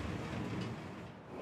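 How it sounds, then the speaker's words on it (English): An InterCity 125 train crosses the Forth Bridge with a steady, broad rumbling roar that holds at an even level throughout, close and sustained, with no talk. "Here comes the train just in time. It's a 125."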